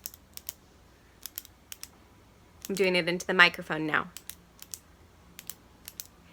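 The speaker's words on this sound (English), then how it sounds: "Did you guess clicking a pen?" A pen clicked repeatedly right against a microphone, giving sharp, isolated clicks spaced irregularly through the clip, with a short spoken phrase in the middle.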